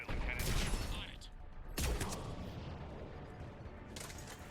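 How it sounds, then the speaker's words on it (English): Ship cannon fire in the sci-fi game Mass Effect 3, during a battle over a Krogan resistance, heard as repeated loud booming blasts over a constant battle rumble, with a strong hit near the two-second mark. "The cannon fire is clearing the way."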